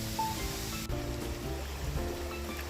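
A low, slow river running calmly past a farm in St. Ann, Jamaica, giving a steady, close wash of flowing water with no distinct splashes and no talking.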